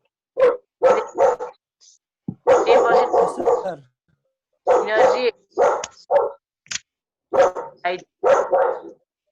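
A dog barks in repeated short bursts, fairly close, with gaps of quiet between volleys; a person speaks briefly in the background.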